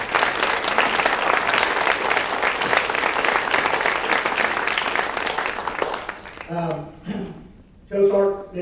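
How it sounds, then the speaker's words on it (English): A crowd at a high school sports banquet gives a sustained round of applause for about six seconds, then it dies away and someone speaks over the tail. "I'd really like to recognize these 3 and give them a round of applause"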